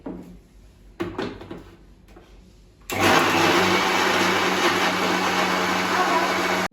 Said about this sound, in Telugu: ఇదిగోండి, ఇప్పుడు దీన్ని మిక్సీ పట్టుకున్నాను